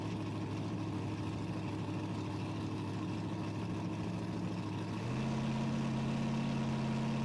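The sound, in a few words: 1969 Chevrolet Camaro muscle car engine idling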